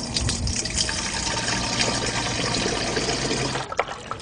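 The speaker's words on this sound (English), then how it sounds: "Add water" Water gushing steadily into a garden sprayer while it is filled for a nematode treatment, a continuous close, full pouring rush that breaks off near the end.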